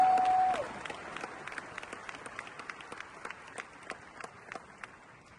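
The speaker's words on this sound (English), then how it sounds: "Can we please give them a round of applause?" An audience gives a round of applause at a church teaching event; loud dense clapping at first that thins after about half a second into scattered, lighter claps continuing to the end.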